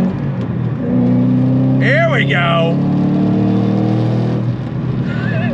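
A Roush P-51A Mustang muscle car revs on throttle, its engine droning loud and steady close by with a rising growl, while someone briefly speaks over it.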